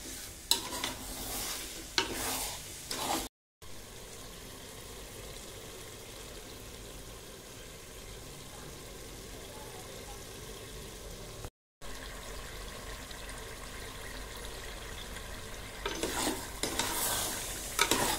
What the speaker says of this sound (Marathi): तेल ओतले आहे. तेलात शिजवायचा आता कांदा.